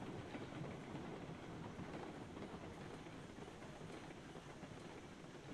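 A train in the Railroads Online game easing slowly through a tight curve, a continuous dense rumble of wheels and cars, steady and fairly loud with no voices.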